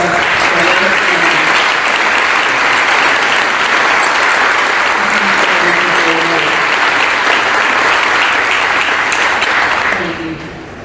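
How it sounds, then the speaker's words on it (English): Loud, sustained applause from a large crowd at a senior awards ceremony fills the clip, clapping steadily before tapering off at the very end. "let us give them one more round of applause"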